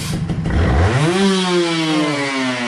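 A motorcycle engine fitted with a reamed, tuned carburetor revs up sharply from idle and holds a steady high pitch without hesitation, loud and close, with no talk.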